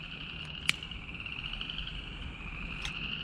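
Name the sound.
frogs croaking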